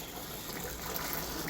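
Water gushes steadily from a motor pump filling a garden pond, a constant broadband rush with no breaks, moderately loud and close, with no voices.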